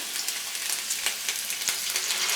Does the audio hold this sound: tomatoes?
yes